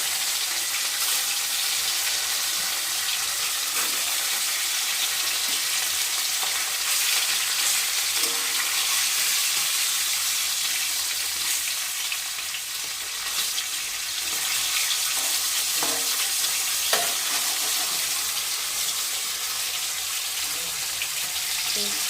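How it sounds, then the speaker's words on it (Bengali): Fish sizzles in a hot pan in a home kitchen, a steady, bright crackling hiss that carries on without a break, with faint stirring and clinking now and then. "মাছ ভাজা হচ্ছে"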